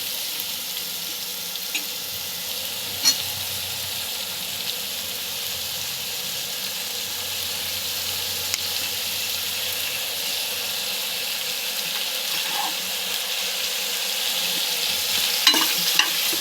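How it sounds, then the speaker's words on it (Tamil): Sliced onions with cinnamon and cloves fry in a pan for raw jackfruit biryani, a steady loud sizzle and hiss running throughout with faint occasional stirring clicks, no voices. "கட் பண்ணி வச்சுருக்க வெங்காயம் போட்டு, இதில் பட்டை, லவங்கம் நான் காமிச்சேன் இல்லையா, தட்டில் போட்ட பொருள் எல்லாம் போட்டுட்டு"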